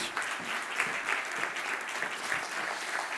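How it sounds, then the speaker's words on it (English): Applause from a conference audience welcoming a speaker on stage, a steady dense wash of clapping that holds evenly throughout without any talk over it. "one more time with a massive round of applause"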